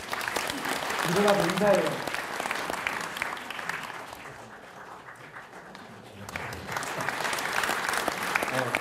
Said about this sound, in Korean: 오늘 참석한 우리 두 젊은 학생들에게도 여러분들 큰 박수를 좀 보내주시기 바랍니다